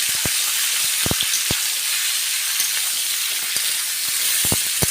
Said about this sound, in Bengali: দিয়ে ভালো করে আমি সবজিগুলো আলুর সঙ্গে মিশিয়ে নিচ্ছি।